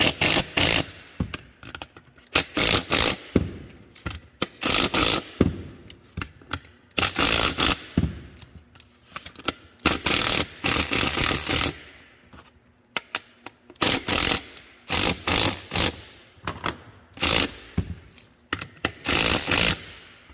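Socket wrench tightening bolts on a planter closing wheel, a close, rapid ratcheting clicking in repeated bursts separated by short pauses, with no talking.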